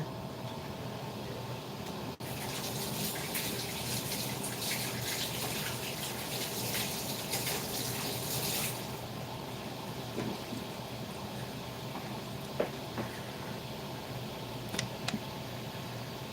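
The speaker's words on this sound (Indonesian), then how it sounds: "saya cuci tangan dulu ya teman-teman" A kitchen tap runs for several seconds while hands are washed, a steady close hiss of water that then stops, leaving faint clinks and room noise.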